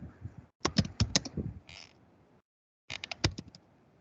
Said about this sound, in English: I am typing like this.